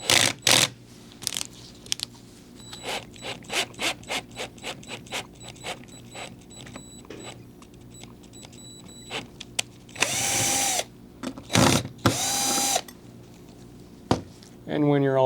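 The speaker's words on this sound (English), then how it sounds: "And we'll do that in our threading tool right here." Bolts being cut with a hand threading tool for an Xbox 360 upgrade: a series of sharp metallic clicks and ratcheting taps in irregular bursts, close up, broken by a few longer grinding whirs.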